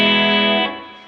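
A sustained electric guitar chord rings out through a Boss Nextone Special amp with 6L6 power tubes and the bright switch engaged, bright and harmonically rich, holding steady before fading away. No voices.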